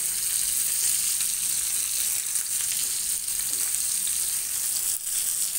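Bangda fish coated in masala fries in a pan, giving a dense, even hiss of hot oil close by with faint stirring underneath and one brief dip near the end.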